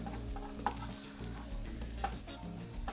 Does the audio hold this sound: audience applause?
no